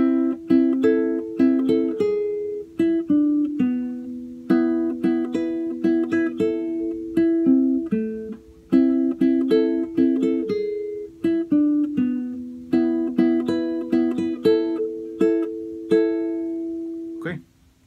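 Acoustic-style guitar plays a full cumbia phrase, a steady stream of plucked melody notes repeating its pattern, near and unaccompanied, ringing out at the end.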